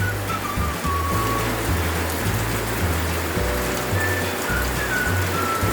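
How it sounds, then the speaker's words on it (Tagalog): Steady rain falling on a small farm's chicken coop on a wet afternoon, a dense continuous patter with low drumming on a surface, constant throughout with no voices. "it's raining again"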